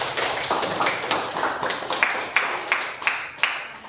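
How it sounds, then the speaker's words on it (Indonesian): Students in a classroom give a short, scattered round of clapping, individual claps audible as uneven taps rather than a full ovation, close and moderately loud. "Tepuk tangan untuk kalian semua"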